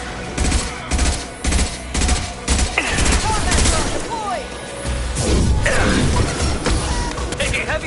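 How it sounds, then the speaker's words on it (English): Rapid bursts of gunfire and crashing impacts in the Mass Effect video game, loud and close, repeating in quick volleys with a voice shouting among the shots. "Taking heavy fire!"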